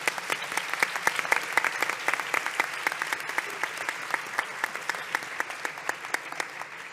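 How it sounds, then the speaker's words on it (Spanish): Sustained audience applause at an oncology pain panel of a 2024 medical congress, steady dense clapping filling the room at even loudness throughout, with individual sharper claps standing out from the crowd. "Un aplauso."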